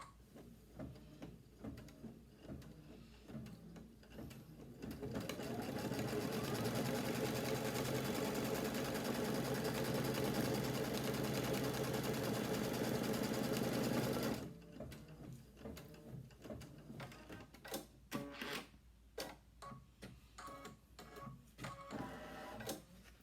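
A sewing machine stitches folded fabric onto an heirloom quilt, running in one long steady burst in the middle, with quieter handling and clicks of fabric before and after.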